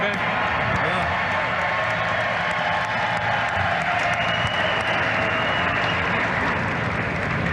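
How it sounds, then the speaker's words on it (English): An NFL Draft audience applauds and cheers continuously, a dense wash of clapping and crowd noise held steady throughout, with a voice audible over it. "I'd like all of you to join me in cheering on Justin as his wish comes true"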